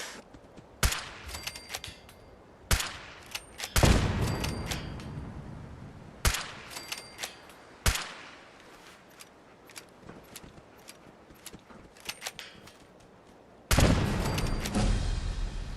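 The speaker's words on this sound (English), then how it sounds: "I don't want to use anything but the lever action rifles." Lever action rifles fire in the video game Fallout 4, with sharp single shots spaced a second or two apart, each followed by a ringing tail, and a few louder booming blasts.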